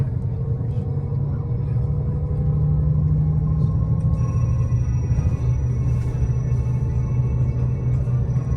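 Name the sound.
fast car passing on the road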